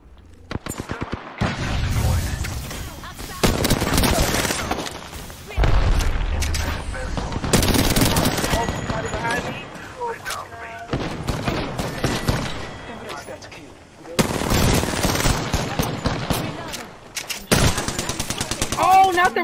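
Gunfire in a video game: loud bursts of rapid automatic shots and single cracks come in several separate volleys across the stretch, with short quieter gaps between them.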